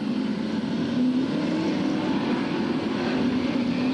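A race car with a small block engine roars steadily and loudly down the straight at a saloon car championship at Skegness, a continuous engine drone with no pauses.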